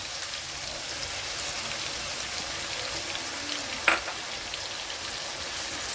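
Onions frying in oil in a kadai, a continuous rain-like sizzle close by with a single sharp clink partway through.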